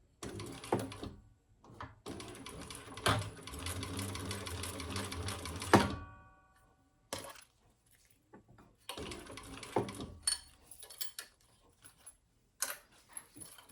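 A sewing machine stitches zipper tabs for a wallet in a long continuous run, then stops and resumes in several shorter bursts separated by quiet pauses.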